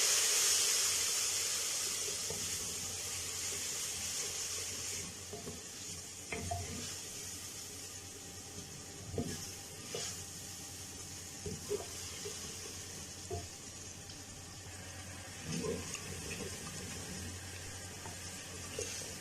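A steady sizzle of tomatoes frying in a pan of spices for achari dal, with occasional soft pops and stirring clinks, continuous and close.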